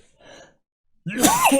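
A single close, loud sneeze bursts out after a short soft intake of breath, during a casual conversation about owning a nice car versus having access to an old one.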